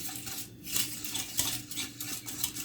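Muhallebi pudding being stirred in a pot, a spoon scraping and clinking against the metal in a steady, moderately close rhythm with no talk.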